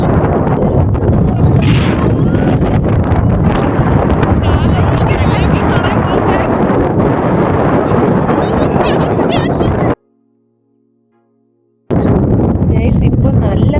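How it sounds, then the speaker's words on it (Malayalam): Strong gusting wind roars across the mic on the Ponmudi hilltop, loud and continuous broadband buffeting with a brief dropout of near-silence before the rush returns. "ഇപ്പോൾ നല്ല കാറ്റുണ്ട്."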